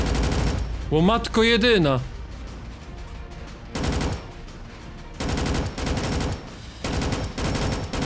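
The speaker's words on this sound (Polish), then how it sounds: "Ale się ciężko z tego strzela." Repeated bursts of gunfire from shooting mutants in the Roblox game Dusty Trip, several short loud volleys spaced a second or two apart, with a brief excited exclamation from a speaker early on.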